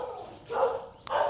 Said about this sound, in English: These dogs are going berserk.